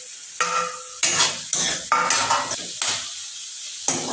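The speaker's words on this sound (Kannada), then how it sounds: "ಈ ಥರ ಚಟ ಚಟ ಅಂತ ಸೌಂಡ್ ಬರುತ್ತದೆ ಅಂದರೆ ಅದು ಕಮ್ಮಿ ಆಗಬೇಕು" Tomatoes and curry leaves fry in a pan for a cauliflower stir-fry, a spatula scraping and stirring in repeated short strokes over bursts of crackling sizzle, close and fairly loud with no talking.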